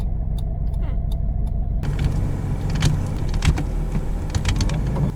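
A 30-year-old car's gearbox grinds on a failed gear shift, a harsh mechanical rasp that swells loudly after a quieter start and carries on with engine rumble, alone and close.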